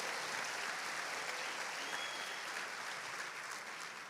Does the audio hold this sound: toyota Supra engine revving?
no